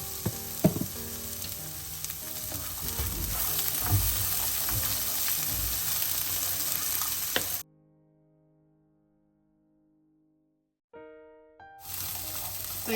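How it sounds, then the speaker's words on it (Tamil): Cowpeas tempering in a hot frying pan give a loud, continuous close sizzle with scraping stirs for several seconds, then the sound cuts to near silence before a brief tonal passage and the sizzle's return. "இப்போ இந்த கௌபி தாளித்து எடுத்துட்டேன்"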